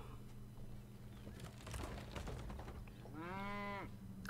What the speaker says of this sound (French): Oh, il y a une vache là-dedans.